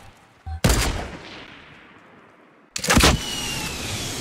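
Two sharp, loud gunshot bursts from Fortnite, each cracking out and fading into a long echoing tail, the first at the start and the second a couple of seconds later, with no talk over them.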